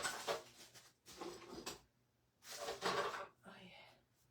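Objects clatter and shuffle in bursts as someone rummages through a cluttered drawer in a craft workspace, with several loud rustling episodes separated by brief pauses, fairly close.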